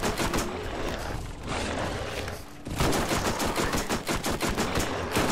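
Sustained bursts of rapid submachine gun fire in the video game Borderlands rattle loud and close, with a short lull before another long burst.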